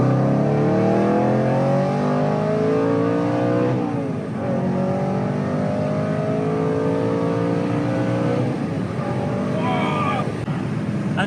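A Mercedes-AMG C63 V8 with a manual gearbox accelerating hard in second gear from inside the cabin, a loud rising engine roar that climbs steadily, briefly drops at a gear change, then surges upward again with another shift near the end.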